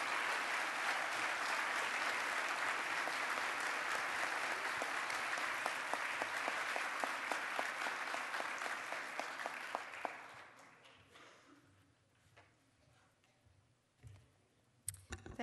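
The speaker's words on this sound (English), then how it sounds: "Please join me in a final round of applause for" A conference audience gives 2013 society fellows a final round of applause at an opening plenary: loud, sustained clapping for about ten seconds that thins into scattered claps and then fades to near quiet.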